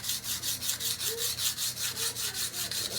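Steel knife blade being ground on an Atoma 140 grit diamond sharpening stone to reshape a broken tip, a steady rhythmic back-and-forth rasping with regular strokes, close and alone.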